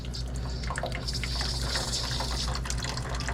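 Water trickling slowly from the drain valve of a residential water heater during flushing, a steady continuous flow with a faint hiss and splash, fairly close and with no voices over it.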